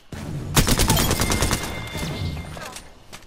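Rapid bursts of gunfire from a video game battle ring out loud and close, several sharp shots in quick succession followed by fainter scattered shots.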